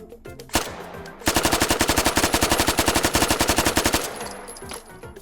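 A Vigormond gun fires in the video game H3VR: a single shot, a brief pause, then a long rapid full-auto burst of evenly spaced cracks lasting about three seconds before stopping, loud and close.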